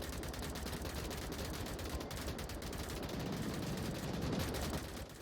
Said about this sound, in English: Early exchange of fire.